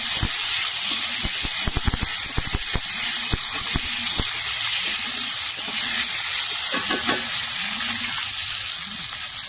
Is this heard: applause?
no